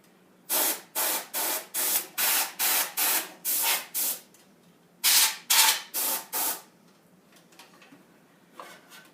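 Canned air sprays dust from inside a computer where a fan was removed, in a rapid series of short, loud hissing bursts with brief gaps, then a pause and a second cluster of bursts, ending with faint rustling.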